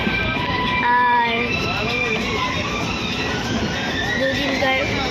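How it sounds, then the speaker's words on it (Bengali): A passenger train rolls along after leaving the station, giving a steady, close rumble with clattering wheels and faint squeals throughout, while a voice talks over it. "এই কিছুক্ষণ আগে ট্রেনটা ছাড়লো"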